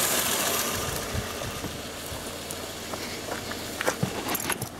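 A 2000 Toyota Corolla with the 4E-FE engine and 174,000 km idles steadily, a low continuous hum and rattle with a few small clicks and knocks near the end, no talking.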